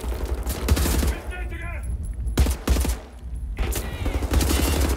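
Rapid assault rifle bursts ring out loud and close in Wolfenstein: The New Order, several volleys broken by short pauses, with someone talking over the shooting.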